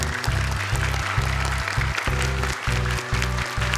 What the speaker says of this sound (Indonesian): Boleh sekali lagi tepuk tangan untuk mereka.